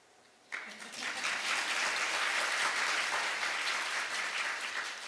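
Audience applause at the Seoul ODA International Conference breaks out suddenly and swells into sustained, dense clapping that continues steadily to the end.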